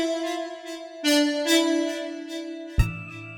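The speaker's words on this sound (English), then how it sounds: "The riff backward sunrise sounds like this." A synth riff from a Vital preset pack plays a few sustained, bright tonal notes that shift pitch, with a sharp attack near the end, clean and close with no voices.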